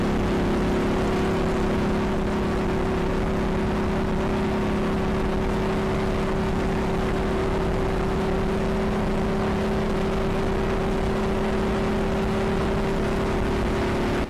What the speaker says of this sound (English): I'm driving a NASCAR on Daytona International Speedway